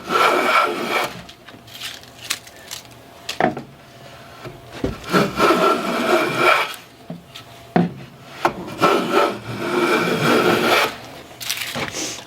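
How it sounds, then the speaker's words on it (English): A hand plane takes shavings off a wooden board clamped in a Yost vise, a series of close rasping strokes, each a rising and falling swish, with short gaps between passes and no talk. "we'll go ahead and just try to take off a few shavings"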